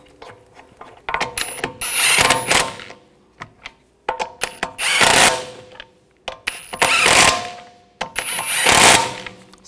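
A ratchet snugs down lug bolts on a 2011–2018 Volkswagen Jetta wheel in four quick bursts of rapid metallic clicking, each a couple of seconds long, separated by short pauses and nearby clinks.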